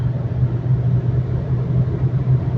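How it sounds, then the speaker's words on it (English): A 2020 MG SUV cruising on a Chinese highway, with a steady low engine and road rumble droning evenly throughout and no talking. "So I'm going to crank the car up because there's no cameras coming up."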